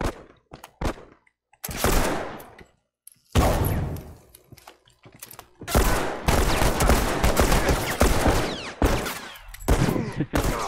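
Video game gunfire erupts in sharp bursts and rapid automatic volleys, loud and close, with short gaps of silence between clusters of shots and no talk.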